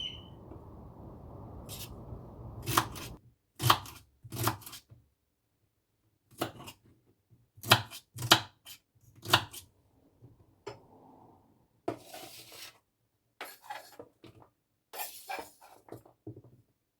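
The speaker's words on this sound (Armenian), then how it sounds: "Կտրատեցի, վերջացրեցի նեխուրը" Knife chopping celery stalks on a cutting board for a mixed vegetable salad, with crisp, sharp cuts in uneven bursts and pauses between them, heard close and alone.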